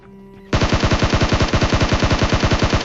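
Rapid automatic gunfire in the battle royale video game PUBG, a loud steady burst of evenly spaced shots starting abruptly after a brief quiet moment and continuing without pause.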